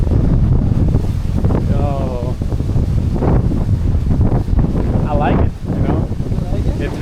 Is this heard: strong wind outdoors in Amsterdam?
yes